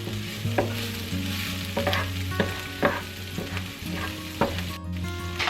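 Butter melts and sizzles in a hot pan for lemon garlic chicken, a bright steady frying hiss with regular spattering crackles and soft stirring clicks, close and fairly loud, without speech.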